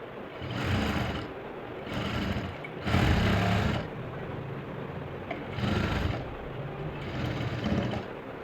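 An electric sewing machine stitches a blouse in bursts of steady whirring, five or six runs of a second or so with short pauses between, close and without talk.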